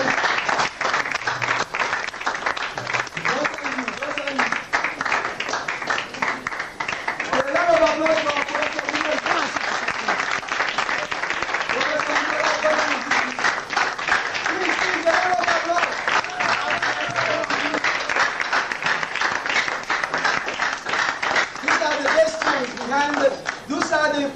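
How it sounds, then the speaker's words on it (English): A large audience applauds steadily and loudly at a ceremony honouring a professor before a traditional dance performance, the clapping running unbroken under and between a speaker's amplified voice. "Please, a round of applause."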